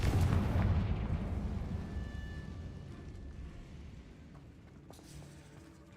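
The Confringo fire spell from Hogwarts Legacy goes off as a loud, deep booming blast right at the start, then rumbles and fades slowly over several seconds, with a few faint clicks near the end.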